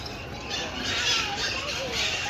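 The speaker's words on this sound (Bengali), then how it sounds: "পাখিদের জন্য নতুন বানিয়েছে এটা।" Birds squawk and chirp in a newly built aviary at Alipur Zoo, their shrill calls rising and falling in the background while people talk nearby.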